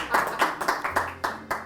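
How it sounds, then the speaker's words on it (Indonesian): A small group of people clapping at a talk show taping, several sharp, uneven claps spaced through a short burst, close and moderately loud, with no voices over it. "Tepuk tangannya mana?"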